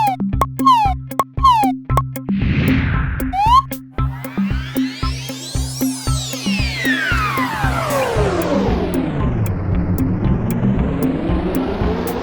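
A cartoon car sets off on a ride with a run of bouncy pulsing beeps and boings, then a loud whooshing zoom that rises and falls as it speeds away.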